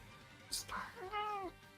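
During a tabletop role-playing game, a voice imitates a cat with a single drawn-out meow, preceded by a brief hissy breath and a short vocal sound, over low background murmur.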